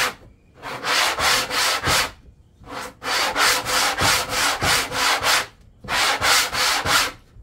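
A wooden board of reclaimed timber is sanded by hand with sandpaper in three bursts of quick, rhythmic back-and-forth strokes, with short pauses between them. The scratchy rubbing is close and loud, and no one speaks.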